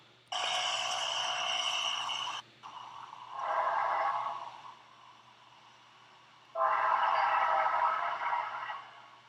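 Amtrak train heard in bursts of broadband rumble and rushing noise that start and stop abruptly, loud and fairly close, separated by quieter gaps, with no speech.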